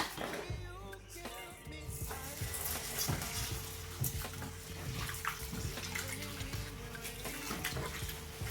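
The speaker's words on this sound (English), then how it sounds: "So I always love to start by rinsing my oats." Water runs from a kitchen tap while oats are rinsed, a close, fairly quiet splashing with some clattering and a faint voice in the background.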